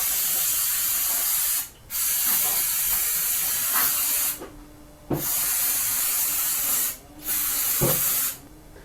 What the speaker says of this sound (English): I'll just come in and give another little wash with some brake clean